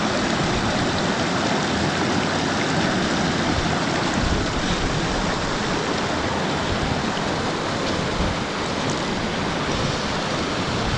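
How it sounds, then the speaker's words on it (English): A mountain stream near Honister Pass rushes steadily, a close, dense, continuous wash of flowing water with no talking. "That's the stream water."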